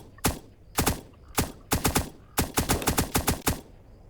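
Gunfire in the zombie-survival game Apocalypse Rising 2, with single loud shots followed by rapid bursts of automatic fire, ending in a quick string of rounds.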